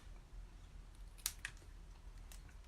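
Scissors give two quick, quiet snips through ribbon while making a bow in a floral craft, with a low steady hum behind and no talking.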